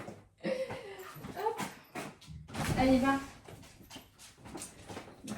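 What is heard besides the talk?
dog whining to be let out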